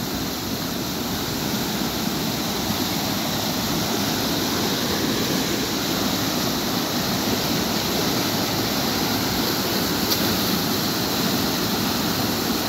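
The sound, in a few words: fast-flowing flood water in a river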